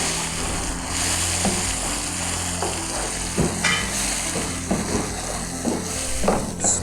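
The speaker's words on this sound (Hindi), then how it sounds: "स्पून ज़रा तेज़ तेज़ चलाएं ताकि अंडा अच्छी तरह मिक्स हो जाए और फुटकी ना आए" Four eggs being stirred quickly with a spoon in a pan over lowered heat, a continuous sizzle broken by repeated scraping strokes of the spoon against the pan.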